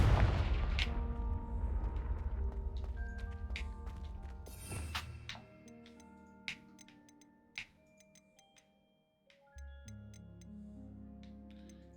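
Confringo blasting spell cast in Hogwarts Legacy: crackling magical energy builds under layered musical tones, then a sharp burst at about five seconds, followed by sparse ticking pops and chime-like plinks fading into quieter ambience.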